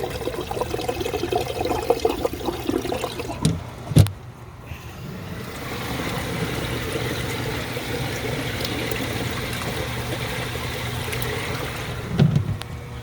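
Garden pond waterfall stack with a filter, splashing and gurgling steadily, close by and alone, with a couple of brief knocks.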